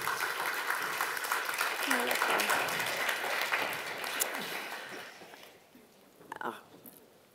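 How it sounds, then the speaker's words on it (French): Audience applause for the evening's laureate at the Konstantin Katzarov Prize 2023 ceremony, a dense steady clapping that fills the room for about five seconds, then fades away, leaving a few faint sounds. "On peut applaudir une nouvelle fois notre lauréat de ce soir."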